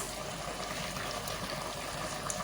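A pot of Nigerian mixed okro soup bubbles at a steady boil, a continuous close hiss and churn of liquid with no speech over it.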